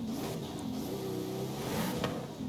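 A Pagani Huayra engine in Forza Horizon 5 with racing exhaust holds a steady, buzzy rev with slight pitch swells and a brief blip near the end, moderately quiet and alone.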